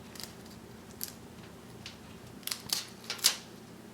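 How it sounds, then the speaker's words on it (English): Scissors snip the fins off a raw tilapia with several short, sharp clicks and crunches spaced irregularly and close by, the last few snips louder and quicker together. "So all I did was cut off the fins here and the fins over there"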